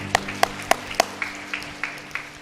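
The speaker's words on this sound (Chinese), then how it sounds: "我们拍手，哈利路亚" A church congregation clapping hands in a steady rhythm during a Sunday worship service, about ten sharp claps, the first few louder and the rest softer, with a faint tone sustained underneath.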